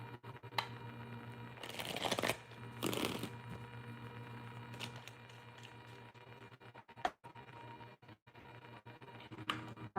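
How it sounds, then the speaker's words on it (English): Tarot cards being shuffled by hand, two quick riffling bursts early on followed by softer scattered card handling and a few sharp taps over a low steady room hum. "let's get a quick shuffle before we get started here"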